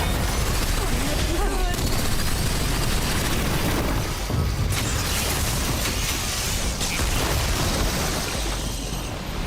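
Loud, dense gunfire from the video game Remnant 2: rapid bursts and booming shots pile up continuously, with someone talking over the shooting.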